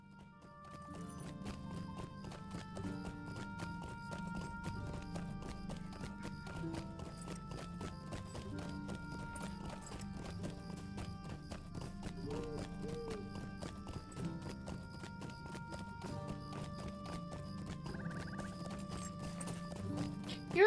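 Steady clip-clop of horse hooves while riding in a fantasy online game set in Breeland, running continuously for about twenty seconds under layered music, with an occasional faint whinny.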